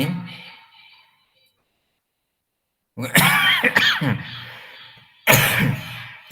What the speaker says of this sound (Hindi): कौन खांसी कर रहा है